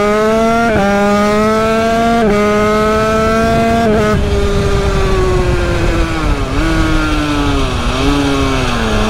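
A motorcycle revs hard with the throttle held wide open during wheelie practice, its engine note climbing and dipping through several sustained pulls, loud and close with no talking.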